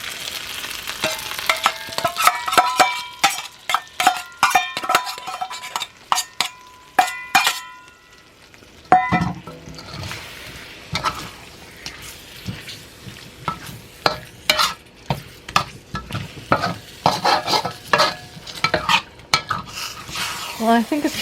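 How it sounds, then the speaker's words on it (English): Pork is stir-fried with sauce in a pan, with a steady sizzle under frequent clattering scrapes and knocks of a utensil against the pan, loud and close, easing briefly before the busy stirring resumes. "Okay, I'm going to stir fry this for a couple minutes with the pork."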